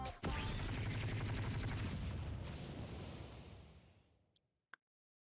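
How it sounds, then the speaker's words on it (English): A burst of video game gunfire breaks a statue into dust: a dense, loud blast of rapid shots and crumbling debris that slowly decays, followed by two short sharp pops. "The strange statue is demolished into dust with each Boscheth's gunfire."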